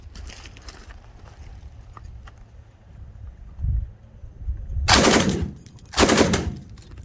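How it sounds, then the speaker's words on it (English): A light machine gun at a Las Vegas shooting range fires two loud, close bursts, each about half a second long, after a stretch of quieter handling noise. "let's get into light machine guns"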